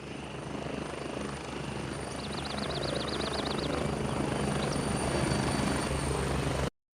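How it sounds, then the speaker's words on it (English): A video game helicopter's rotor thumps steadily close by, a loud continuous chopping drone with a whining engine, growing slightly louder before stopping suddenly. "the helicopter comes and pick you up and fly out to the mission"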